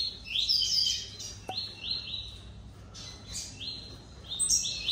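Several male blue-black grassquits sing in competition over one female, with repeated short rising chirps and buzzy bursts, fairly close and clear over a faint steady background hum.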